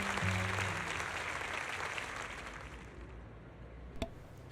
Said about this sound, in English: Zoe's speech is met with a wave of prolonged applause.